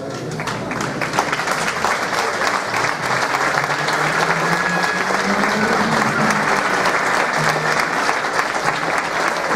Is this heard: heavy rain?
no